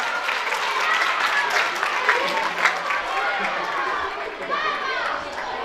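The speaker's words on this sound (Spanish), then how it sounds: "Un aplauso para Elsa." An audience claps for a volunteer, named Elsa, at a children's educational concert, a steady burst of applause mixed with children's voices and chatter throughout.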